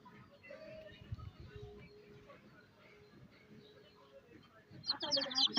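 Hens and young chicks cluck and peep faintly nearby in a rural yard, soft intermittent calls under a person speaking, with a brief louder flurry near the end.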